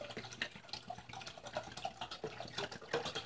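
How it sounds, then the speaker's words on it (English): Water runs from a tap into a kettle in a home kitchen, a continuous splashing stream with small gurgles, close and fairly quiet. "I'm simply taking my kettle and putting some water in there."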